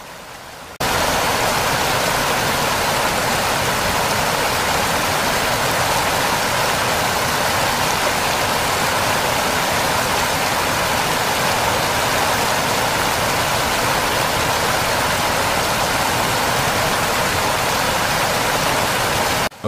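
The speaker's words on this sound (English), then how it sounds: "Torrential rains with violent winds paralyzed the island." Torrential rain driven by violent winds on an island, a loud, dense, unbroken roar of water that starts abruptly and holds steady throughout.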